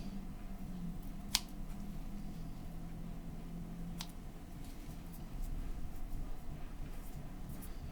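Scissors trim material while tying a Marabou Muddler fly, giving two or three brief, crisp snips spread over several seconds against a quiet, steady background hum, with no talking.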